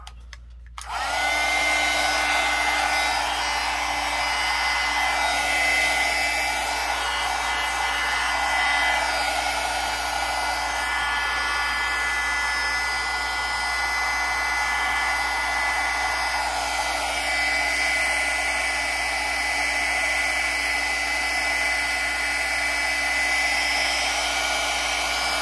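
A hair dryer blows over wet paint on a mixed-media junk journal page, a loud, steady, unbroken whoosh that lasts the whole time after a brief click on.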